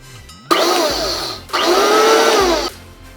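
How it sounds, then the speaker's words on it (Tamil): A kitchen mixer grinder powders sugar for carrot halwa in two loud bursts, each about a second long, whirring with a shifting pitch as the motor spins up, separated by a brief pause. "மிக்ஸி ஜாரில் கொஞ்சம் நல்லா அடிச்சுக்கிறேன்"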